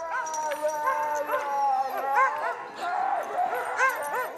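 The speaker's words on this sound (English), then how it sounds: "watching how excited the dogs get" Excited sled dogs barking, yipping and whining in a kennel yard before a mushing run, many overlapping voices at once, loud and close.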